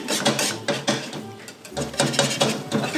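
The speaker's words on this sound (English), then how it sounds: "Let me whisk mine first." Cheese souffle mixture being whisked in a bowl, a rapid rhythmic run of close clattering strokes of the whisk against the bowl with brief pauses, no voices.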